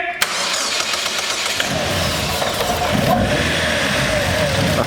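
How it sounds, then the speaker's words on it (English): A 2005 Chevy Cobalt engine cranks and catches on starting fluid, then runs with a rough, steady roar, loud and close, with faint voices in the background. "we're gonna throw some fuel in it and see if it'll start"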